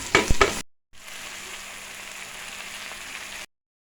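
Crab with curry fries in a pot, a steady crackling sizzle that runs for about two and a half seconds after a brief clatter, with no talking.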